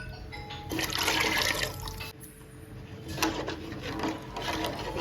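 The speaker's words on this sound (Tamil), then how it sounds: "கரைச்சி வச்ச புளி கரைசலை இதில் சேர்த்துக்கலாங்க." Tamarind water is poured into a simmering mango, egg and fish gravy, producing a soft liquid splashing and gurgling in two bursts with a quieter bubbling pause between.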